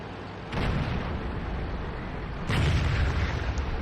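A Ferdinand tank is destroyed in World of Tanks with a rumbling game explosion that flares up, holds as a dense roar, then surges again with a second heavier blast.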